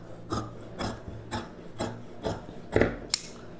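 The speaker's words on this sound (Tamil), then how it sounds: "இப்போ நம்ம ஸ்லீவ் கட் பண்ணிக்கலாம்." Scissors cut blouse sleeve fabric for a pa neck blouse. Close, rhythmic crisp snips recur about twice a second, each a short rasping stroke, with no talk over them.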